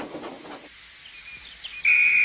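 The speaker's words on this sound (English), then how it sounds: "Oh, that's my conductor's whistle." A conductor's whistle at a station in Thomas & Friends gives one shrill, steady blast that starts suddenly near the end and carries on loud, following a short spoken moment.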